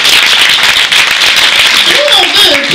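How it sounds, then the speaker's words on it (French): An audience at a theatre premiere breaks into loud, dense clapping that continues steadily throughout, with voices rising near the end. "Est-ce qu'on applaudit, Graham?"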